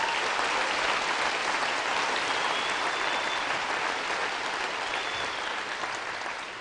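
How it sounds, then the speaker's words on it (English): Audience at a high school homecoming skit night applauding steadily for the whole stretch, a dense, loud wash of clapping that tapers slightly at the end. "So if you would just give them a round of applause"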